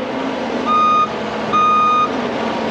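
A Cat 304 excavator stuck in the ground works its tracks while a loud, steady engine drone runs throughout. Two long electronic reversing beeps sound close by over the engine.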